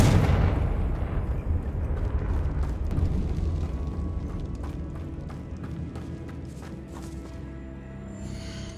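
A Confringo blasting spell detonates in Hogwarts Legacy as a loud, heavy explosion with a deep rumbling boom at the start that slowly decays into crackling debris and scattered pops.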